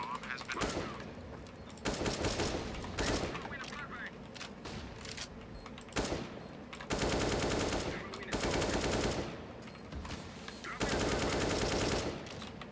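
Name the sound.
gunfire in a video game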